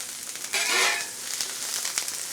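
A thick-cut onion frying in a pan for half-pound bone marrow burgers gives a moderate, steady sizzle, swelling briefly louder for a moment before settling back to an even crackle, with no talking.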